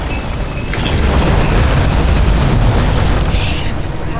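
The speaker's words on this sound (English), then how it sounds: "Fuses just blew." Fuses blowing in Nobody Wants to Die, a loud, deep boom followed by a sustained rumbling roar with a brief crackle near the end.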